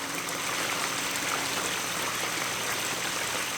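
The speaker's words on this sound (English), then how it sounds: "I personally will take the sound of a blade waterfall, like this" A steady, close rush of water from a blade waterfall splashes continuously into a garden pond, a smooth even hiss with no other sounds.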